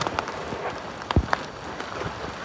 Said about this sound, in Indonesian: suasananya berkabut dan hujan gerimis